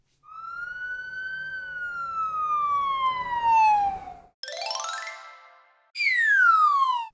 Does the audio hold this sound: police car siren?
yes